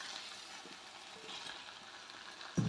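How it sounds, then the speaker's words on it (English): Cherry tomatoes go into a simmering red pepper and tomato masala pan, giving a soft, steady sizzle throughout with a short, louder thump near the end as they land. "I'm going to add in the cherry tomatoes."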